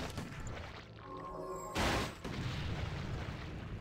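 Grenade explosion in a Warcraft 3 Nazi Zombies custom map, a single loud broadband boom that cuts through the steady rumble of game noise and gunfire, then fades back into the busy battle din.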